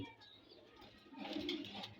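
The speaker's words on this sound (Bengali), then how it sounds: "মাশাল্লাহ আমার দুইটা মাদি কবুতর রেস্টে রাখছি" Two female pigeons resting in a pigeon house give soft, faint coos, a quiet low murmur that swells slightly in the second half.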